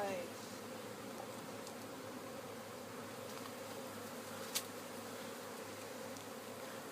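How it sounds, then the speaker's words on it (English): A captured swarm of honeybees hums inside a box on a farm, with dense, continuous buzzing held close and steady. A brief sharp knock cuts through partway. "a box full of bees"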